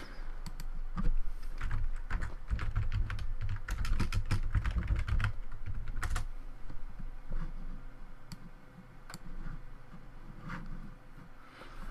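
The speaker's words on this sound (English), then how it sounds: "let me type something" Fast typing on a computer keyboard during a Zombies game livestream, with bursts of clustered key clicks, short pauses, then a few scattered taps, close and clear.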